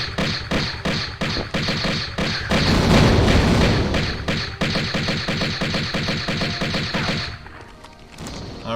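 Explosions during a firefight in Tomb Raider, loud, with a heavy booming rumble around the middle that overlaps rapid repeated gunshots, which then fade into a quieter tail.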